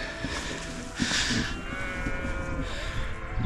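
Sheep on an open hillside bleat close by, with a couple of loud, wavering calls standing out above steady wind noise.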